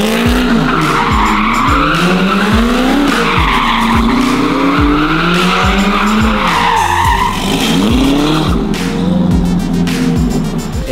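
A tuned turbo truck races a Corvette, engines roaring loudly and repeatedly revving and shifting up through gears, with tire and skid noise layered over the continuous close, saturated drone.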